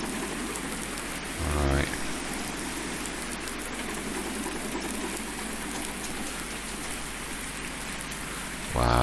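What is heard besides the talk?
rain in Farming Simulator 19 video game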